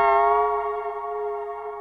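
A Cymatics 'Memory' Serum synth patch with a retro character holds one steady, harmonically rich tone, sustained and loud for under two seconds with no voices.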